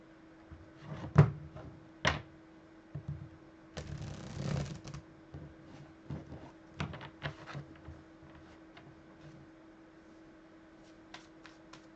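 Tarot cards being shuffled by hand for a weekly reading, heard as quiet, close-up riffles and sharp card snaps separated by pauses, with a faint steady hum underneath.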